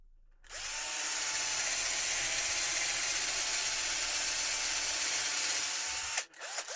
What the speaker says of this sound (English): We need to drill a couple of holes first.